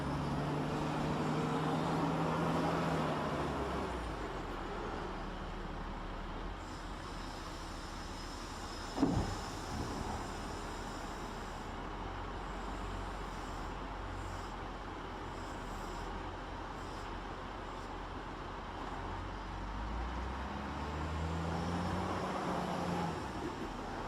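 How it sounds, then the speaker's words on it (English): Wheeled loader driving a long haul between its loading point and dump site, a steady broadband engine and travel rumble that holds at an even, moderately loud level throughout, with one brief sharp clank partway through. "It takes the loader more time for traveling."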